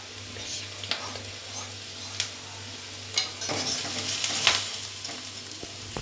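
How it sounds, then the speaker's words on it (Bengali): Kashmiri chilli powder and coriander powder sauté in a pan for a vegetarian mung dal dish, giving a steady soft sizzle with occasional scraping stir strokes and clinks. The sound stays fairly close and moderate in level. "একটু এটা আমি কষিয়ে নিচ্ছি"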